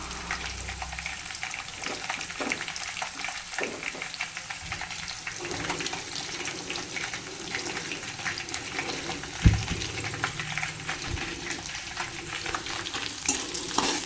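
Onion fries in a pan for a soybean curry, a close crackling sizzle with repeated scraping and stirring strokes and an occasional sharp knock of the utensil.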